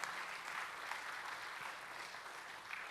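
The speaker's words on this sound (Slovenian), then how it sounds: "In seveda, en aplavz." Sustained applause from the audience at a municipal anniversary celebration in Ljutomer, a dense, even patter of many hands lasting throughout, moderately distant.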